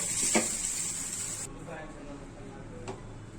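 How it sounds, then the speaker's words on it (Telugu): Vegetable noodles stir-frying in a pan on high flame give off a steady hiss and sizzle, with a few sharp scraping clinks from the utensil, fading a bit after the first moments. "ఈ విధంగా హై ఫ్లేమ్ మీద నూడిల్స్ పర్ఫెక్ట్ కుక్ అయిపోతున్నాయండి"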